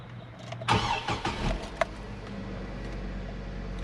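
A Hummer H3 with about 110,000 miles cranks with a few sharp bursts, fires up and settles into a steady low idle, heard close and clear.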